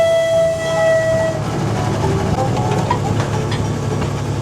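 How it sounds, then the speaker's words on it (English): A train at Calico rumbles out of a tunnel with a steady low engine drone and rattling cars, while a brief sustained horn-like tone sounds at the start before fading into the rolling noise. "Train's coming out of the tunnel."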